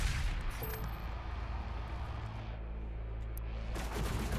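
Dense, roaring gunfire and blasts from the Doom Eternal video game, a continuous heavy din of shots and explosions with a brief pause in the upper range before the barrage swells again near the end.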